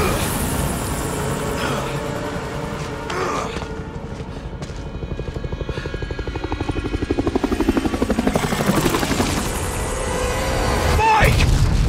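A helicopter in the video game Resident Evil 4 Remake roars loudly and continuously with a throbbing rotor pulse and heavy rumbling, joined by booming impacts, while people speak briefly over it.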